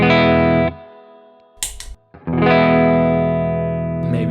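A Gibson Les Paul through a Boostache overdrive pedal with the drive at zero rings out a loud, sustained chord, falls quiet with a brief scrape, then strikes another full chord that holds steadily to the end.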